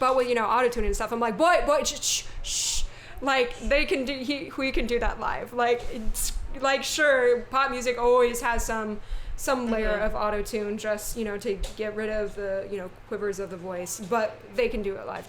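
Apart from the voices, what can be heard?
No everyday noise stands out behind the speech.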